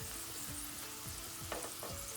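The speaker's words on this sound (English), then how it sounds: "while that one's frying," Polish kruschiki cookie dough frying in a pot of hot oil, a steady close sizzle and bubbling with a few brief crackling bursts toward the end.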